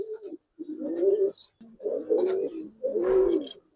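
Pigeons of a Giribaz breed coo in a rhythmic series of soft, throaty bursts, close and clear with short pauses between phrases and no talking.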